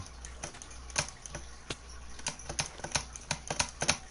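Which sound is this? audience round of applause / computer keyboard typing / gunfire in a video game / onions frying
computer keyboard typing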